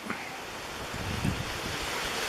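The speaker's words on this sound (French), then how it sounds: "je peux vous dire qu'il y a de la rafale derrière moi là" Strong gusty wind blows outdoors as a steady, close broadband roar, swelling slightly toward the middle and end, with no voices.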